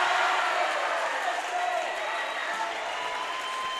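High school basketball crowd in a gym cheering and clapping after a deep three-pointer by Southeastern, a steady wash of noise that slowly eases, moderately distant.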